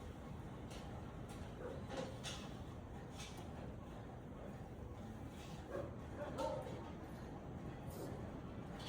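Dogs yipping, whimpering and giving occasional soft barks at a low level, scattered short calls over background noise with faint voices.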